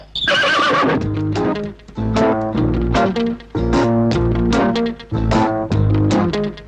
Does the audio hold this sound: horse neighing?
yes